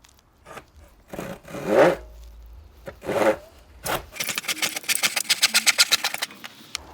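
Scrap wood pieces being cut by hand for a birdhouse, with scraping sawing strokes and then a quick run of rapid rhythmic rasping bursts near the end, close and fairly loud.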